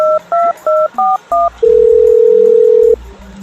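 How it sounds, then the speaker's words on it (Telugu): A quick run of telephone keypad beeps, six short tones in a row, followed by a long steady tone, loud and close. "ఇప్పుడే ఫోన్ చేస్తాం"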